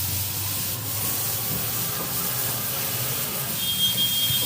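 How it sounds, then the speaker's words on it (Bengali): Potatoes and eggplant stir-frying in oil in a home kitchen give off a steady, close sizzling hiss with faint scraping throughout, and no talk. "আলু বেগুনগুলো সুন্দর করে একটু তেল দিয়ে কষাই নিতেছি।"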